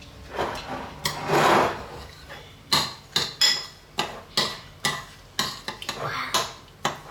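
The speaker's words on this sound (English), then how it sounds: "So hold on to the bowl and mix it." A metal spoon mixing an Oreo ice cream mixture in a bowl, giving a series of close clinks and scraping knocks in an irregular rhythm, loud and dry, with no talk.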